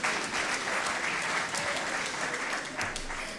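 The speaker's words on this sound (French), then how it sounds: "Et applaudissez notre artiste d'ailleurs." A live concert crowd in Haiti applauds the featured artist during a quiz challenge, with full, close clapping throughout and faint crowd voices mixed underneath.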